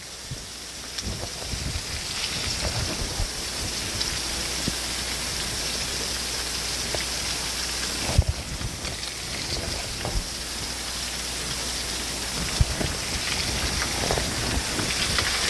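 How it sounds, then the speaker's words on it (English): Sliced potatoes and onions fry in a pan with bacon, seasoned with salt and pepper, until golden: a loud, steady sizzling hiss with occasional pops, and no voices. "Just going to fry these up just till they're golden."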